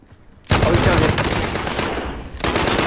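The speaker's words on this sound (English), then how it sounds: "I'll throw a decoy grenade out for him" Sustained automatic gunfire from a decoy grenade in the Warzone video game, starting abruptly after a quiet moment and continuing as a dense, loud rattle.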